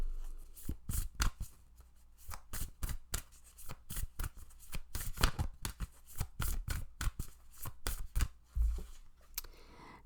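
A deck of white light oracle cards is shuffled by hand: a rapid run of crisp, close riffling snaps and flutters, with no talking.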